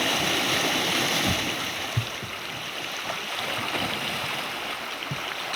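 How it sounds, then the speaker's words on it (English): A wooden boat with an outboard motor pushes through shallow river water, a constant broadband rush of water and engine with occasional low knocks as the hull scrapes or bumps. "You can only make your way through such shallow water in a wooden boat."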